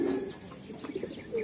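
Many racing pigeons coo together in a low, continuous murmur, soft throaty calls overlapping close by with faint chirps and a wing flutter in the background.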